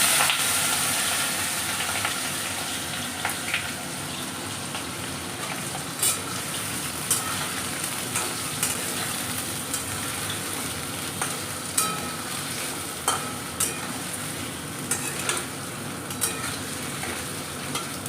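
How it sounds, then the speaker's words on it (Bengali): Potatoes frying in hot oil for a vegetarian ghugni with onion give a steady, close sizzle throughout, dotted with brief louder crackles and pops from stirring. "আলুটা ভেজে নেব।"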